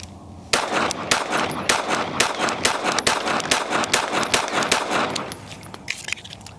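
Rapid, irregular volley of close, loud shots from a Smith & Wesson Bodyguard 2.0 pocket pistol with a 10-round magazine, sharp cracks following one another almost continuously for several seconds with no talking.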